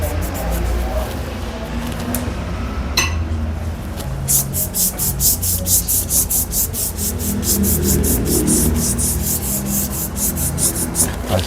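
A cheap corner-finishing wall sponge is rubbed on drawing paper as a blending stump, making quick rhythmic scratchy strokes that begin partway through after a quieter stretch.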